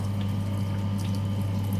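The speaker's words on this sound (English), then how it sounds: "we can see the overflow pipe is draining water and water is fixed at this level" Water drains steadily from the overflow pipe of a laboratory pipe friction rig, a continuous rushing flow over a low, even hum with no speech.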